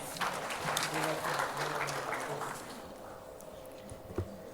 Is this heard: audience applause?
yes